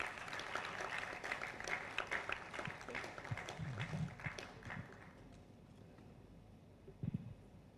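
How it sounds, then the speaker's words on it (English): An audience at a national integrity conference applauds, a dense patter of clapping that fades out after about five seconds, leaving faint room noise and a thump. "I think we should keep giving a round of applause as he walks us."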